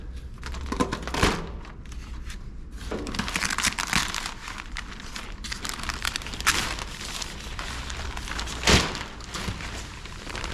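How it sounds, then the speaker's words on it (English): Masking tape is peeled away from the painted body of a 1965 Pontiac Bonneville Safari wagon, giving bursts of crinkling, tearing rips between quieter pauses, close up. "We're gonna try to tear away from the painted surface so that we don't peel any paint off with it."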